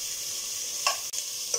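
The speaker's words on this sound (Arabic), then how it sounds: "هننزل بقى بالثوم بتاعنا برضه هنشوحه في بعض حاجه" Garlic sautéing in a pan while making kabsa, a steady soft sizzle and hiss throughout with a couple of brief stirring scrapes and clinks near the end.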